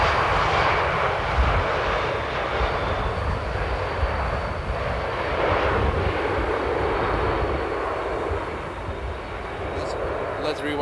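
Airplane landing at Amsterdam Airport in windy weather, a steady broad engine roar from a distance that holds for the whole stretch with little rise or fall.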